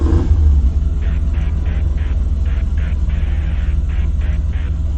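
A 1972 Toyota car's engine rumbles loudly and steadily close by, the low drone swelling in a series of short repeated revs over a constant idle.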